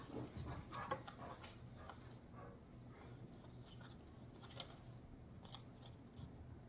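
A dog whimpers faintly and shuffles around close by in a quiet room, with soft scattered rustling and small movement sounds.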